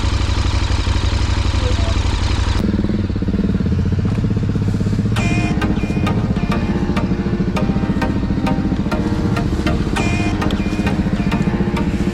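A KTM 790 Adventure R motorcycle engine catches after a start attempt and settles into a loud, rough, steady idle with rapid clattering pulses, close by and continuous throughout.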